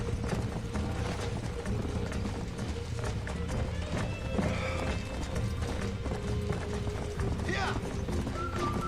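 Hooves pounding in a steady galloping rhythm from a horse in the Red Dead Redemption video game, with a sharp neigh partway through, loud and close over game ambience, while a person talks over it.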